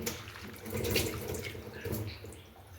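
Tap water runs steadily into a sink while amaranth greens are rinsed and handled under the stream, with splashing swells.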